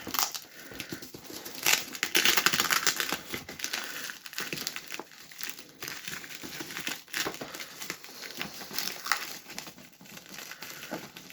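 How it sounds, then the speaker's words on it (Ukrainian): Adhesive tape is peeled and crinkled off a Dendy Junior retro game console during an unboxing, a close series of crackling, tearing bursts of varying length with short pauses between, no speech. "Ладно, добре, я зніму з неї скотч."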